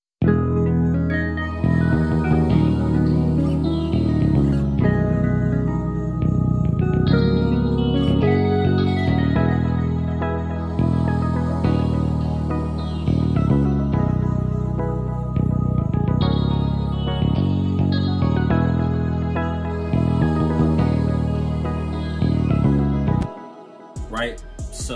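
An Afrobeat melody built in music software, layered with orchestral strings from a BBC Orchestra sound bank, plays steadily and loud for the whole stretch, with sustained chords and rhythmic plucked phrases and no voice over it.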